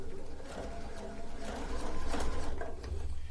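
A sewing machine stitching rag quilt blocks, a close rapid mechanical whir and clatter that rises slightly as it runs.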